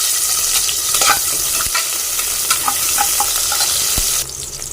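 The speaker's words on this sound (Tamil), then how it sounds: "எண்ணெய் காஞ்சிச்சு வாசனை பொருட்கள் போட்டாச்சு வெங்காயம் பச்சை மிளகாய் போட்டாச்சு" Onions and green chillies fry in hot oil with whole spices for tomato rice, a loud, continuous close sizzle broken by scattered spoon scrapes and taps against the pan, with no voices.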